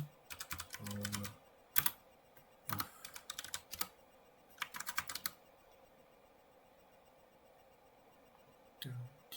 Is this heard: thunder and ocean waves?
no